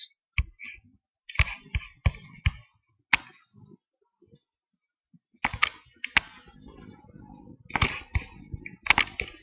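Clicky bursts of computer keyboard typing while entering a title into an Excel spreadsheet footer, coming in short irregular clusters separated by pauses, close and fairly quiet.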